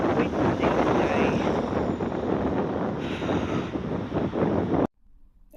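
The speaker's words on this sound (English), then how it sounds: "Oh God, it is windy today." Wind buffets the microphone outdoors on a blustery day, a loud continuous roar that cuts off abruptly near the end.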